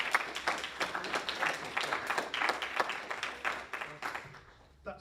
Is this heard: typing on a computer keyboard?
no